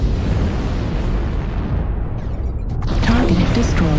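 An artillery strike in a video game erupts into heavy rolling explosion noise with rumbling blasts and crackling debris, loud throughout, while voices talk over it.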